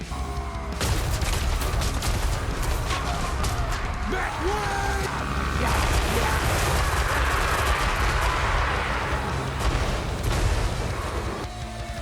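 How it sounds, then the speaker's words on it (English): Spinning Gatling gun firing full auto in Warhammer 3, a dense, continuous roaring rattle of rapid shots that fills the whole stretch, loud and sustained with faint battle noise around it. "I like the spinning Gatling gun"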